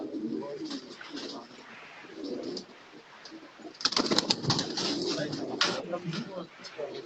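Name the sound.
pigeon cooing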